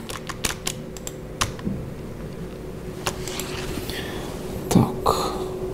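Typing on a computer keyboard, with scattered bursts of key clicks and pauses, close and fairly loud over a steady background hum, plus a brief throaty noise near the end.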